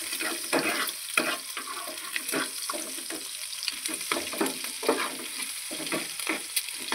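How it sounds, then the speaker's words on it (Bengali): Eggs with a little salt fry in a pan, a bright crackling sizzle with repeated stirring and scraping strokes, close and fairly loud with no talk. "ডিম অল্প নুন দিয়ে ভাজিয়ে নেব।"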